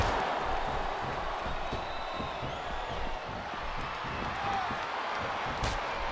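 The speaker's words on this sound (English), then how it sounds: "I think these superstars are getting some feedback from the crowd, JR." Steady roar of an arena crowd during a monster tag team wrestling match in WWE 2K24, dense and continuous throughout with scattered sharp thumps and no clear gaps.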